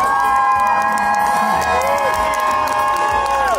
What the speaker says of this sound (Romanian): Eu cred că putem să strângem mai multe aplauze și mai multă gălăgie